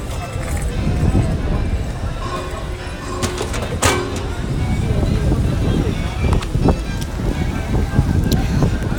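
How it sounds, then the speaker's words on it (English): Strong gusty wind roars steadily across an outdoor theme park area near the Slinky Dog ride, a loud continuous rush of microphone buffeting with faint crowd and park noise beneath. "That wind is some kind of crazy today."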